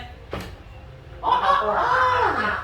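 A voice imitates a chicken, giving a drawn-out, honking cluck after a brief earlier noise.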